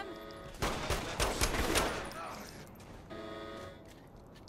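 Sniper gunfire in the video game Saints Row the Third comes as a cluster of cracking shots and impacts in the first half, then fades into quieter ambience, with a voice speaking over the action.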